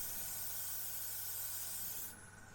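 Cellulose-based paint sprays from an airbrush onto photo-etched metal parts of a 1/32 Revell He111 model kit, a faint continuous airy hiss that drops in level near the end.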